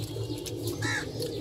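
An army pigeon coos nearby, a soft low rolling call repeated over a constant background murmur, with no talking.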